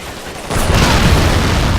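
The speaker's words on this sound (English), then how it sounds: "Here comes the explosion." A single heavy explosion in the Men of War Assault Squad video game bursts in after a short quieter lead-in, followed by a dense, rumbling roar that keeps going to the end.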